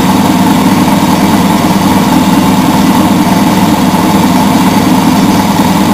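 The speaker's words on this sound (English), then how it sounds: "You can see the thread winding side to side." An ETC embroidery auto bobbin winder runs continuously, winding thread with a steady, loud mechanical whirring hum and no pauses.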